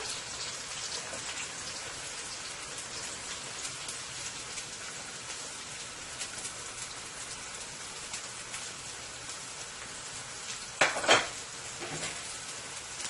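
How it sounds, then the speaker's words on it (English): Shrimp sautéing in a pan with scallion, garlic and chili pepper, a steady close sizzle that runs throughout, with a brief clatter of utensils near the end and no talking. "So I'm going to let this saute for about 2 minutes"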